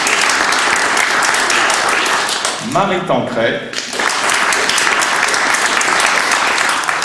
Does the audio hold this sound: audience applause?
yes